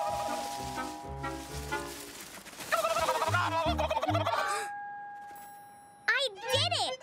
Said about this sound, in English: Maybe it takes a really special turkey call.